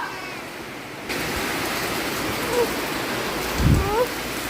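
Heavy rain falls as a dense, even hiss that swells after the first second, with a few faint voice-like sounds underneath.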